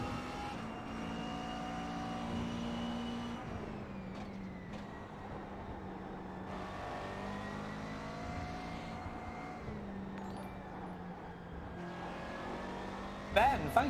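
A steady race car engine drone in iRacing with shifting pitch as it revs up and down through gears, moderately loud throughout, with a brief sharp noise at the end.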